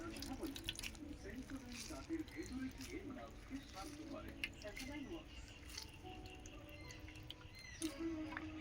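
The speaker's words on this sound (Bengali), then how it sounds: "সুন্দর করে আমি জল চেপে চেপে বের করে দেব" Pumpkin flowers squeezed by hand to press water out, soft wet squishing and dripping in repeated close, quiet bursts while someone talks.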